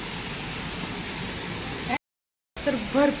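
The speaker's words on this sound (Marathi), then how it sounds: "तर भरपूर असा पाऊस आलाय मोठाला" Heavy monsoon rain pours down in Sangola, with water running along the road. It makes a steady, full hiss that cuts out briefly, then returns with a voice speaking over it.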